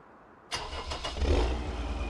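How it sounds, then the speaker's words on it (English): Farm tractor engine cranking and catching, a sudden start followed by a rough, low idle that swells slightly, heard up close with no voices. "So I'm going to have to get the tractor over here."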